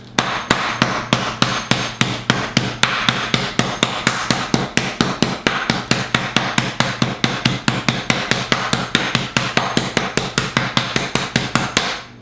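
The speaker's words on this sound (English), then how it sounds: "I'm going to probably pound this out a little bit more over on this side right here" Steady, rapid thumps of a mallet pounding chicken breast thinner, dozens of sharp blows in an even rhythm, close and loud with no talking.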